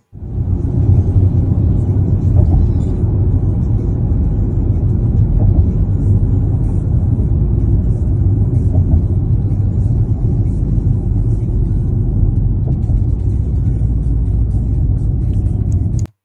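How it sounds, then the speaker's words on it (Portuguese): Steady low engine rumble of a car, continuous and fairly loud throughout, with no voices. "barulho do carro mesmo"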